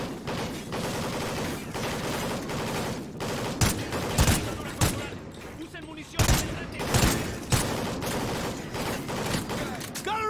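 Sustained gunfire from Call of Duty: Ghosts, a dense fusillade of automatic weapons with several louder bursts and booms standing out, while a voice calls out over the shooting.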